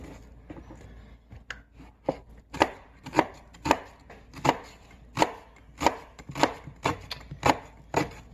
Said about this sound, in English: start off with a medium-sized yellow onion, and you'll cut it into very fine small pieces